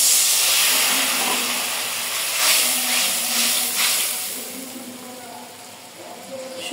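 Water is poured into hot frying masala of ground cumin, coriander and turmeric, setting off a loud burst of steamy hissing that slowly fades to a softer sizzle.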